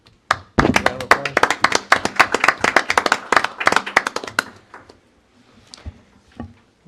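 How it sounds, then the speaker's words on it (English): A modest audience at a board of supervisors meeting claps together for about four seconds, crisp individual hand claps close by that thin out and fade into quiet room noise and a few faint sounds. "Round of applause."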